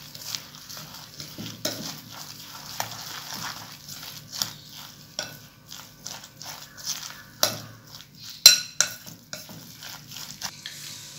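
Beaten eggs and flour being mixed into a batter for brinjal rings, soft irregular clicks and wet scraping strokes in a bowl, close and quiet, with no talking.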